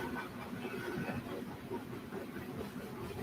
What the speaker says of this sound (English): Can you guys hear that train?